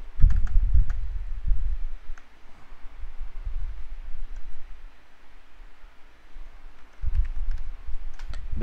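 Typing a formula on a computer keyboard produces close, soft clusters of key clicks and taps in irregular bursts, pausing through the middle before a fresh burst near the end, with no talk.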